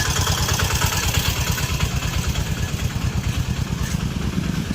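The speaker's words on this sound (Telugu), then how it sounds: "ఎస్ ఓకే, బైక్స్ అయితే పాస్ అవుతున్నాయి." Motorcycles pass close by on a rain-soaked road, their mid-pitched engines chugging loudly and steadily throughout with a rough, rapid pulsing beat, wet road hiss underneath and no talking.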